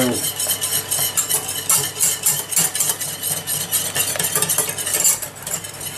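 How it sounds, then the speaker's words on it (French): A whisk or spoon stirs frangipane cream in a pan without pause, making a fast, steady rhythmic scraping and swishing that runs throughout, close and fairly loud. "on n'arrête pas de mélanger jusqu'à épaississement et on va attendre la première ébullition"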